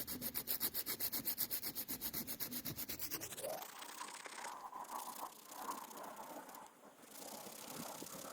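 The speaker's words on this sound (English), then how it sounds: "I got some 120 grit sandpaper here" Fiberglass on a boat repair is sanded by hand with 120 grit sandpaper. Fast rhythmic back-and-forth rasping strokes give way to a steadier, smoother rubbing sound, close up with no talking.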